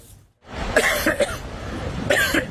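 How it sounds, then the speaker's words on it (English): A person coughs repeatedly at close range on a beach during an algae bloom, a rough burst of hacking followed by a second fit after a short pause. "Coughing, eyes stinging."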